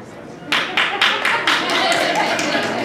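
At a science day lecture, a few audience members start clapping in a rhythmic run of separate claps that blend into a brief patter, with someone talking over it.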